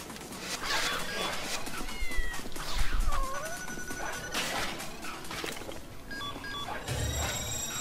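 Cat meows in the video game Tokyo Jungle, several wavering calls spread through a busy, noisy game soundscape with thumps and rustling, no talking.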